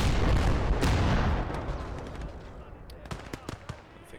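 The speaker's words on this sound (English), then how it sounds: "Tanks are firing." Heavy artillery and gunfire from tanks in the WWII strategy game Call to Arms: Gates of Hell, a dense loud barrage at first that thins out into several sharp separate blasts and cracks.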